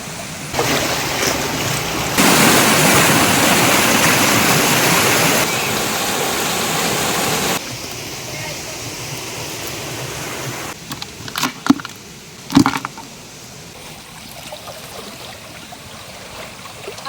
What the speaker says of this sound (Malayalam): ഇതാണ് നമ്മളെ തോട്